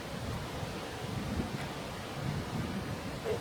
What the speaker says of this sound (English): It's a bit breezy, it's a bit blowy.